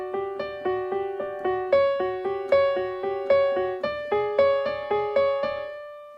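A piano plays repeated arpeggio patterns, even, steady plucked-and-decaying notes in a rhythmic cycle, clear and close with no talking.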